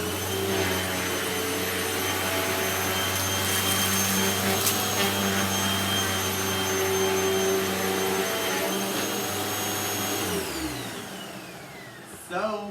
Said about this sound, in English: now it's time for the Hoover T-Series Rewind